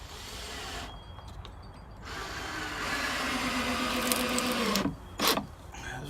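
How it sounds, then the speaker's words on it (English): A power drill drives screws into a 2x4 on a blue barrel water tower platform, with a steady, loud motor whine that rises in pitch and ends with a couple of short bursts. "I'm going to put 2 screws into the 2x4 on each side, suck them in a little bit"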